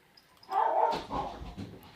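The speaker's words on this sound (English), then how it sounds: "And you might hear my dog's gonna be barking." A pet dog at home gives a single short bark followed by a softer whimpering yelp, close by and moderately loud, with no voices.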